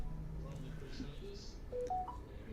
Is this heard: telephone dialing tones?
yes